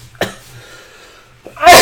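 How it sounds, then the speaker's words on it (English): One sharp cough bursts out close to the microphone in a quiet room, followed by a brief pause and the start of a second, louder cough or throat clearing. "Talking for now makes me cough."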